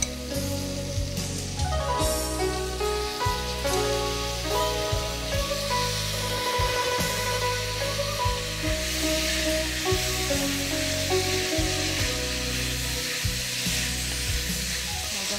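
Tofu pieces fry in a hot pan with a steady, dense sizzle that runs unbroken throughout, loud and close, with faint scraping and stirring knocks underneath and no talking.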